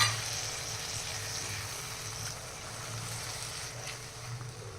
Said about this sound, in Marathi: आता आपल्याला हे एक दोन मिनटं तेल सुटेपर्यंत छान फ्राय करून घ्यायचे